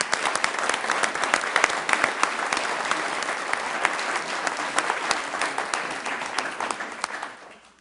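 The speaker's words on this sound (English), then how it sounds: "let's give them an even bigger round of applause" Audience applause fills a Sioux Falls city council meeting room, steady dense clapping from many hands that holds loudly for several seconds before tapering off at the end, with no talking over it.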